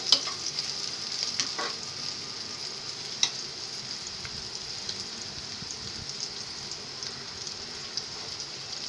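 Onion browning in hot oil with pointed gourd seeds, a quiet continuous crackling sizzle with scattered pops and a couple of sharper spatters, no voices.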